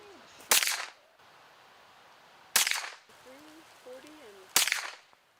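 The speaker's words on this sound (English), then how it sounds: "Target shooting with a .22 rifle." Three sharp cracks from a .22 lever-action Henry rifle fired at targets on a Montana ranch, spaced about two seconds apart, each with a short ringing tail; faint voices murmur between shots.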